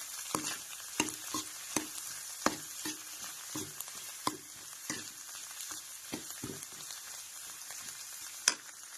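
Sago pearls and other ingredients for sabudana khichdi sauté in a pan, a steady soft sizzle broken by repeated sharp scrapes and clicks of a spatula stirring at an uneven rhythm, close and fairly quiet with no voices.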